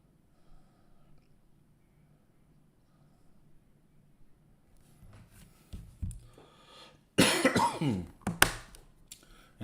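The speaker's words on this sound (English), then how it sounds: "this cough that just won't go away" A person coughs in a few harsh, abrupt bursts after a long stretch of near silence, the coughs loud and close with short breathy snorts between them.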